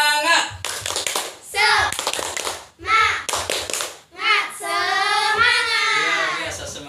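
Classroom pupils perform the tepuk semangat clapping chant, loud rhythmic bursts of hand claps alternating with children's chanted voices in quick patterned groups, fairly close and energetic throughout.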